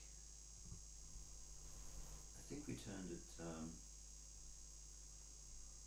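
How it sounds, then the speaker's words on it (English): A thin, steady high-pitched buzz of unknown origin hangs in a room, faint and constant, with a low hum beneath and a person briefly talking partway through. "You hear the high pitched buzz? Not sure where it's coming from."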